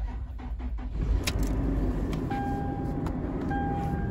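A 2016 Toyota 4Runner engine starts up and settles into a steady idle, with a faint jingle of keys before it and a thin whine over the running engine.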